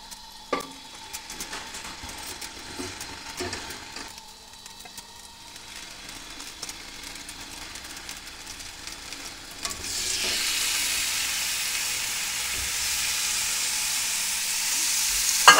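Marinated chicken frying in oil over a low flame: quiet kitchen clatter at first, then a steady, bright hiss of sizzling swells up and carries on to the end.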